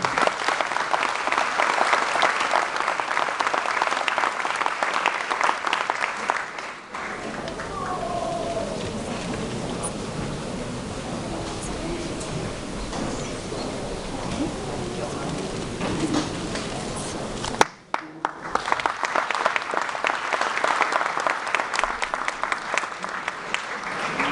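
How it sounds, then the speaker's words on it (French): An audience at a charity gala applauds loudly, with dense sustained clapping that shifts in tone partway through and then returns, strong and continuous throughout, with no voice over it. "je vais vous demander d'applaudir très fort le Dr Raphaël Pitti"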